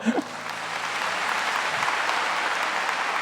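A church congregation applauds during a Catholic priest's homily, with steady, dense clapping that swells in after a brief voice and holds loud and continuous throughout.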